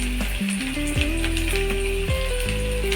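Finely chopped onions hit hot oil in a pan for a prawn fry, giving a loud, steady sizzle and crackle throughout, with brief stirring clatter and a low background hum, no voices.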